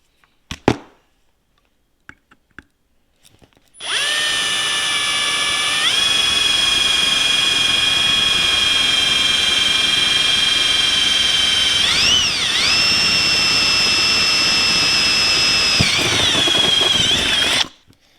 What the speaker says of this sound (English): Alright, so first thing I'm going to do is drill a hole.